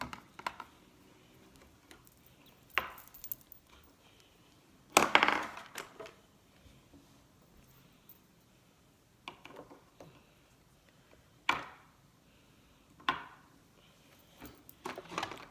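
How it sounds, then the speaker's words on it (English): Faint, sparse clicks sound during eye makeup application, arriving as isolated sharp ticks separated by long stretches of near silence. "Do you know that clicking sound?"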